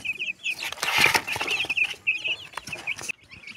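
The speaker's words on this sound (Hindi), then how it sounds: "तो मुर्गी का बच्चा को लेकर आया है, अभी 8 पीस लेकर आया है फ्रेंड्स मैं।" Eight young chicks peep in rapid, high chirps, close by and continuous, mixed with brief flapping and scuffling sounds.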